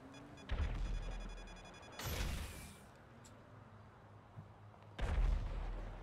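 Gunfire in GTA Online, a few heavy booming shots spaced a couple of seconds apart over a quiet background, with no voices.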